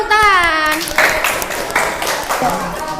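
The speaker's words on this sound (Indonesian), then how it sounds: "Tepuk tangan." Children in an Indonesian classroom clap their hands in brief scattered applause, mixed with children's voices talking over it.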